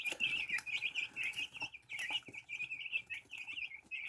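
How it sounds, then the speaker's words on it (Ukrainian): Young hens of the R3A breed cluck and chirp continuously in a coop, a steady busy chorus of close fowl calls with occasional wing rustles. "підросли наші ціпульки, наша курочка R3A"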